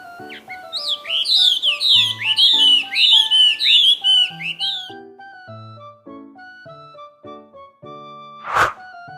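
Bright cartoon-style birds chirp in quick repeated bursts over light plucked music, followed by thunk-like tones and a single sharp sparkle near the end.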